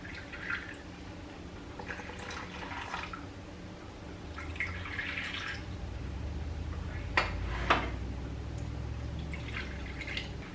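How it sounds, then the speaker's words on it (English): A little water is poured onto chicken roasting in a pan, heard as quiet intermittent trickles and drips at close range with no talk. "I'm just gonna put a little bit of water."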